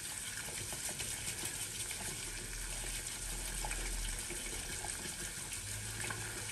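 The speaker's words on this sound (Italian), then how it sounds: "tanto metto un po' d'acqua nel sapone per il prelievo con il pennello" Water is poured into a tub of shaving soap to load the brush. A soft, steady trickle runs quietly and continuously with no voices.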